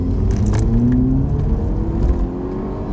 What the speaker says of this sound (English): What's this, a second gear pull?